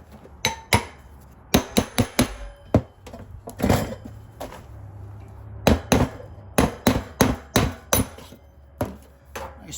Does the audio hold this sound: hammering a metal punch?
yes